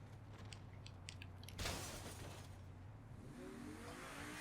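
A car engine in Saints Row The Third, the second best car in the game, holds a steady mid-level hum that swells into a short burst near the middle before settling back to a low running drone.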